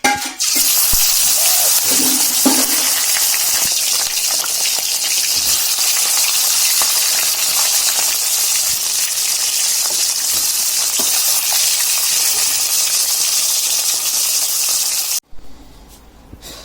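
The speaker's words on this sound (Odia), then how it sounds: "ତ ମାଛଟାକୁ ସାଙ୍ଗମାନେ ଭାଜିଦେବା।" Shewla fish fries in hot oil in a pan, giving a loud, steady sizzle that stays constant for about fifteen seconds and then cuts off abruptly, with no talking.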